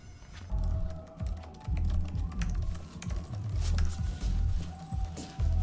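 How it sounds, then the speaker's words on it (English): Fast typing on a computer keyboard, with dense bursts of clacking keystrokes in quick rhythm, close and fairly loud, separated by brief pauses. "Wait, what was he typing?"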